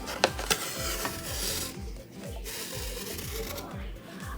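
Yarn being threaded through a hole in a string art board, a soft repeated rubbing and scraping drawn close to the listener, steady and fairly faint with a few sharp ticks near the start.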